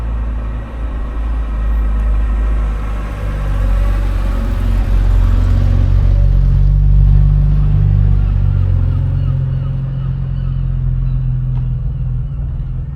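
A fully rebuilt classic car engine idles and rumbles loudly up close at a car show, a deep, steady low drone that rises slightly in the middle and then settles.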